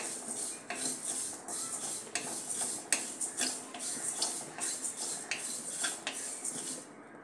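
Spices and sesame seeds dry-roasting in a pan, stirred with a metal spoon that gives repeated clinks and scrapes against the pan over a light rustle, close and steady.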